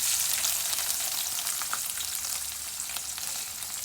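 Bitter gourd slices fry in hot oil in a pan, giving off a steady, dense sizzle at close range with faint crackles and no voices.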